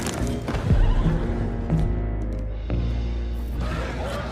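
Horses neigh and whinny in Red Dead Redemption 2, with a loud close whinny over clip-clopping hooves and ambient game noise.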